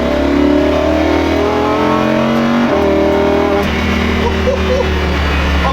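An ABT XGT race car driven on a public road accelerates hard, its loud engine climbing in pitch through gear changes near the cabin, with no talk.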